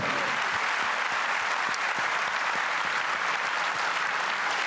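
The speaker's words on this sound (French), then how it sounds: "On peut applaudir Guy Drut" Dense, sustained applause from an audience at an Olympic New Year's gathering in Auxerre honouring athlete Guy Drut, a loud even roar of many hands clapping without pause.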